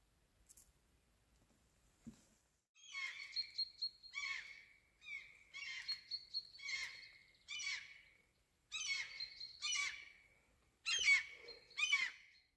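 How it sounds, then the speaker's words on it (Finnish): Gulls calling repeatedly by a lake at a bird sanctuary point, a series of loud, harsh squawking bursts in quick clusters, fairly close, with no talk. "On täällä noita lokkejakin näköjään."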